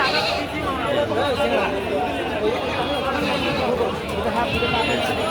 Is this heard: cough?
no